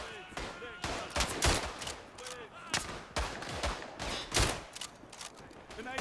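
Rapid rifle shots crack out in a World War I first-person shooter set at Tannenberg, a Winchester among the weapons, the reports sharp and scattered at varying distances.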